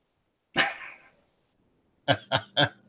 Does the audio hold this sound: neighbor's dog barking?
yes